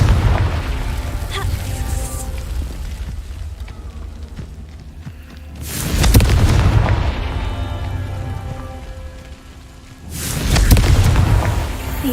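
Confringo spell explosions in Hogwarts Legacy, two loud booming blasts roughly four seconds apart, each with a rumbling fiery tail over a low ambient game score.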